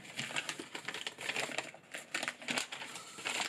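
Crinkling and rustling of packaging as a prize package holding a Barebones Living LED light is unboxed, close and continuous with irregular crackly bursts, no talking.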